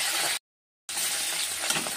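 Small morula fish fry in hot oil, a loud, dense, continuous sizzle heard up close, broken by a brief total silence near the start before the hissing resumes unchanged, with no voices.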